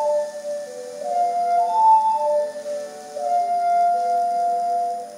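An ocarina plays a melody in The Legend of Zelda: Majora's Mask as a slow line of sustained pure notes, clear and moderately loud over a quiet background, with no voices.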